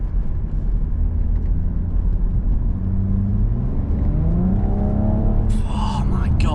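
BMW M135i engine pulling on a national-speed-limit road, a fairly quiet, steady rumble and whir that rises gently in pitch as it accelerates, with people talking over it.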